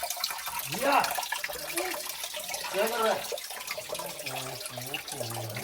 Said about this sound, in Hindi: ये अल्लाह की तरफ से मुसलसल पानी आए जा रहा है, पानी आए जा रहा है।